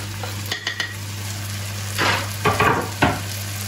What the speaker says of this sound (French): Et je laisse revenir comme ça, en mélangeant bien.